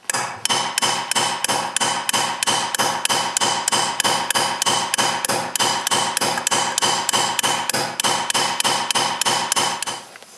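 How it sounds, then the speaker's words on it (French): Steady, rapid hammer blows planishing a copper piece, each strike a bright metallic tap in an even rhythm of roughly three per second, close and loud with no talk throughout. "le planage consiste à effacer les traces laissées par les coups de marteau précédents"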